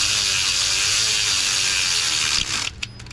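Rapid ratchet whirring as a 10 mm bolt is driven down to hold an eyelet on a Toyota 3.3 V6 AWD, steady and close for most of the stretch, then slowing into a few separate clicks at the end.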